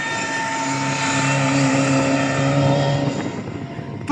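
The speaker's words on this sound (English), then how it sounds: "I can hear that supercharger" A supercharged Peugeot 205 at a race circuit, its engine droning steadily with a whining tonal note as it passes nearby, loud and even, then fading slightly at the end.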